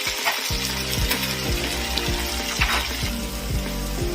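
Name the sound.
spice paste frying in pan for fish korma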